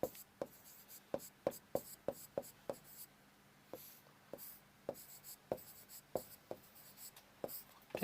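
Chalk or marker tapping and scratching on a board during a lesson, a quiet series of sharp irregular strokes and taps spread over several seconds.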